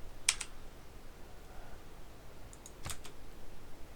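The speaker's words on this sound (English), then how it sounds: "Just hitting my control keys to see if that's the problem." A few computer keyboard control keys pressed in quick succession, two short bursts of sharp clicks near the start and near the end, close and fairly quiet over faint room noise.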